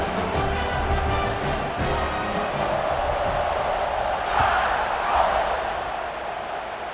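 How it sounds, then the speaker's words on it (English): Stadium crowd in EA Sports College Football 26 cheering during a kickoff after a scoring drive, a loud, continuous roar with a brief swell of cheers midway. "this crowd is feeling themselves after that last drive"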